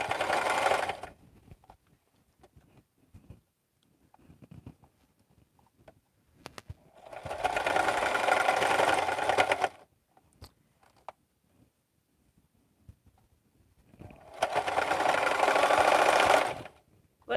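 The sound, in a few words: sewing machine sewing bag handles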